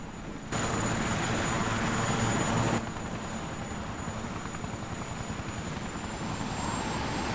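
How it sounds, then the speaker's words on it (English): A helicopter in the video game Yakuza 4 gives off a loud, steady rotor and engine roar with a thin high whine above it, heavier for the first few seconds and then holding constant. "Helicopter time."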